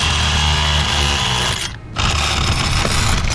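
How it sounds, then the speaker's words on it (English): A motor shaft is worked with a tool in continuous loud buzzing, grinding bursts that break off briefly in the middle and then resume. "Do I try and like chisel it away like this?"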